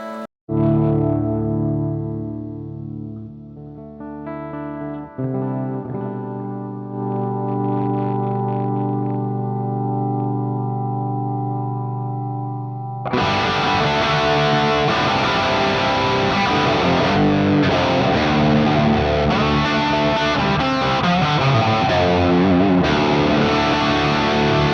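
An Airline electric guitar played through distortion and chorus effects: clean sustained chords ring out for about thirteen seconds, then a loud, thick distorted passage with a wide shimmering chorus takes over, with no talking.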